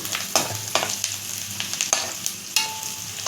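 Onion and garlic frying toward brown for a yam fry, a close crackling sizzle punctuated by several sharp spatula scrapes against the pan at uneven intervals.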